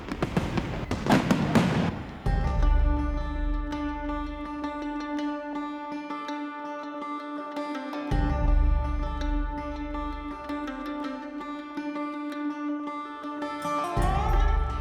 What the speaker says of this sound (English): Spilotro's plan was for the fireworks of the 4th of July celebrations to cover the noise